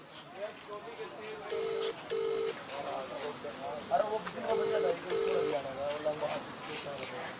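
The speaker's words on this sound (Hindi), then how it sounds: "तो बेल जा रही है लेकिन अभी तक जो है फोन रिसीव नहीं किया गया है।" Ringback tone of an outgoing phone call that has not been answered, with two pairs of short tonal pulses separated by a pause, heard faintly under someone talking.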